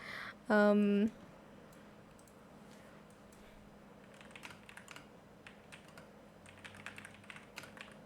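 Computer keyboard typing heard faintly as scattered light clicks and taps, following a brief loud tone near the start, in an otherwise quiet room.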